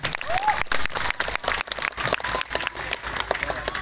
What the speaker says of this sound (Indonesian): Boleh kita tepuk tangan dulu dong buat acara kita malam hari ini.